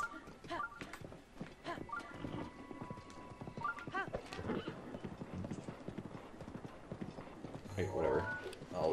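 Horse in the video game Breath of the Wild, with hoof clip-clops thudding in an uneven trotting rhythm and a whinny near the end, heard under intermittent talking.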